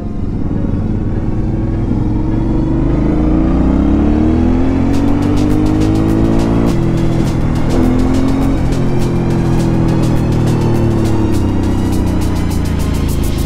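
An Aprilia Shiver 900 motorcycle engine with stock exhaust revs and rumbles up close, and after a few seconds a rapid run of sharp exhaust pops and crackles joins in.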